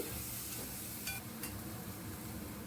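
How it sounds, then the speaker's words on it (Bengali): Masala with ginger paste is stirred in a pan, with a continuous low sizzle under a couple of brief scraping strokes, close and steady with no talking. "আর দিচ্ছি আদা বাটা এক চামচ দিয়ে ভালোভাবে এটা মিশিয়ে নিচ্ছি মশলাটাকে"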